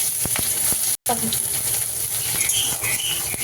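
Whole dried red chillies, bay leaf, cumin and chopped onion frying in hot oil for a fish roe curry, giving a steady close sizzle with a few stirring knocks and one brief dropout.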